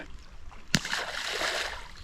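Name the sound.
splash of a caught fish released back into the water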